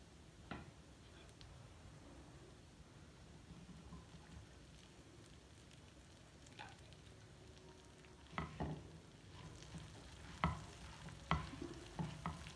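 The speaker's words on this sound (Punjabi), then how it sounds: "ਥੋੜਾ ਜਿਹਾ ਬਸ ਅਸੀਂ ਇਸ ਤਰ੍ਹਾਂ ਹਿਲਾਉਂਦੇ ਹੋਏ ਤਾਂ ਜੋ ਸਾਰੇ ਮਸਾਲੇ ਜਿਹੜੇ ਹਨ ਜੀ ਮਿਰਚਾਂ ਦੇ ਵਿੱਚ ਲੱਗ ਜਾਣ" Green chillies with spices being stirred in hot oil in a pan over a low gas flame for a sweet-sour pickle, a faint soft sizzle broken by scattered spoon scrapes and clicks.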